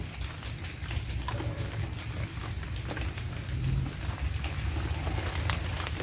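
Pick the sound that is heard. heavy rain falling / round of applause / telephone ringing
heavy rain falling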